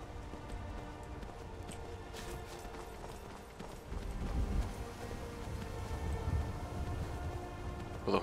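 Hooves of a horse in the video game Skyrim clop steadily in a continuous run, moderately close, over a dense, rain-like wash of game ambience, with no voices.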